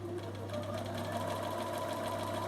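A Bernina 570 sewing machine with the B9 shuttle system runs steadily, stitching after a starting knot, with a continuous close mechanical whir and rapid needle ticking throughout.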